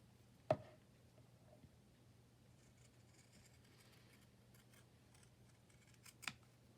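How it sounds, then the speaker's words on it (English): Zigzag scissors cutting fabric edges indoors, heard as two sharp, isolated snips several seconds apart against a quiet background with a faint hum. "let's use the zigzag scissors and we'll clean up those edges so they don't fray"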